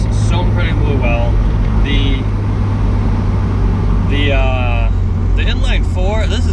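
A car with an inline-four engine, bought at 115,000 miles and otherwise unmodified, drives along with a steady low engine drone and road rumble running beneath someone talking throughout.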